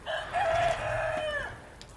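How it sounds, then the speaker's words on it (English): Chickens cluck and a rooster crows loudly and close by in a backyard coop during a winter blizzard, one long crow dominating the short burst. "Bunch of little chickens."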